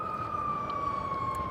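An ambulance siren sounds as a steady high tone over road and wind noise, heard from an electric bike on a ride, moderately loud throughout with no voices.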